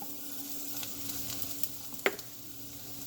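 Garlic sizzles in a pan for penne alla vodka, a steady soft hiss with light stirring ticks and one sharper clink near the end.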